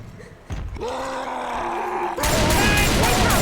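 A Tank special infected in Left 4 Dead 2 lets out a deep, growling roar that swells and holds at close range, then a loud, dense burst of noise, likely gunfire, takes over, with no talk in between.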